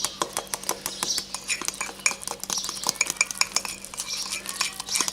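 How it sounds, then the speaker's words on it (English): A fork stirs and beats batter in a bowl for a microwave mug cake, rapid clinking and scraping taps repeating quickly and close, with no talk. "We'll just give her a mix with the fork."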